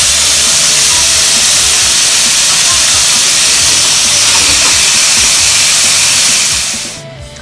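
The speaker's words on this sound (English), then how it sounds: "You're going to brown your ground beef." Ground beef browns in a skillet with a loud, close, unbroken sizzling hiss that holds steady and then drops away abruptly near the end.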